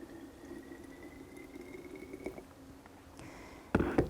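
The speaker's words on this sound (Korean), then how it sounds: "유리병에 팔팔 끓는 뜨거운 물을 4분의 1 정도 부어줍니다." Boiling water is poured into a glass bottle, a thin steady trickle with a faint ringing tone, ending in a louder splashing gush near the close.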